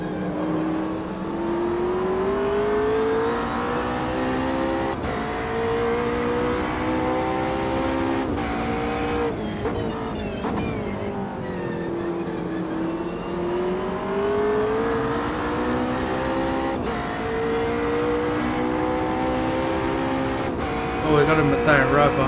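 A GT3 race car engine at Bathurst in the sim Automobilista 2 drones and climbs through the gears, pitch rising and falling with each shift over a long stretch, with someone talking over it at times.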